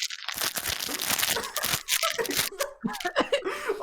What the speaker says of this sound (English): all he hears is the crunch of someone eating lettuce and the plastic bag